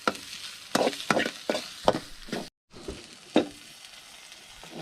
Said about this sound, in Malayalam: ഇട്ടിട്ട് നല്ല രീതിയിലൊന്ന് ഇളക്കി കൊടുക്കാം.